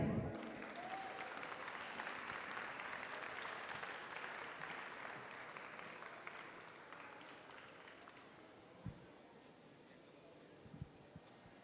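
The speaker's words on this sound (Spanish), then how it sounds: "presentamos y recibamos con un fuerte aplauso a Frida Guerrera." Audience applause welcoming a speaker to the stage at a TEDx event, sustained clapping from a large room that gradually tapers off, followed by a few thumps and footsteps near the end.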